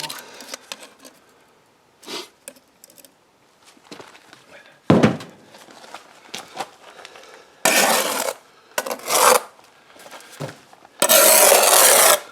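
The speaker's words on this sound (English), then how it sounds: "Clear that excess mortar off so you can see what you're doing." A trowel scrapes excess mortar off a concrete block wall during bricklaying, giving several rough, gritty scraping strokes of varying length, some close and loud, mixed with dull knocks and handling noise.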